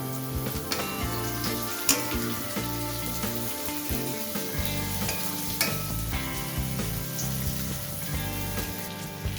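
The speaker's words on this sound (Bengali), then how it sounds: "মিনিট দুই পর হালকা হাতে একটু মাছগুলোকে নেড়ে দেব" Loitta fish curry frying in a pan: a steady, loud sizzle throughout, with occasional light scrapes as the pieces of fish are stirred.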